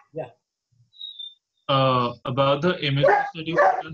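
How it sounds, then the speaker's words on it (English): A pet dog indoors gives a few short barks near a computer microphone during an online session. The barks come in brief bursts early on, and a voice talks over and after them. "Sorry, that's my dog."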